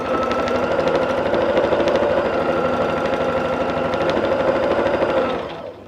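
A sewing machine stitches continuously during free-motion quilting of feathers, its needle hammering in a fast steady buzz close by for about five seconds before stopping abruptly, with no voice.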